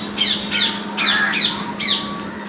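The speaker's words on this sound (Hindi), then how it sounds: "तोते की आवाज आ रही है।" Parrots in a mango tree give about five harsh, squawking calls at irregular intervals. They are moderately distant over a quiet background hum.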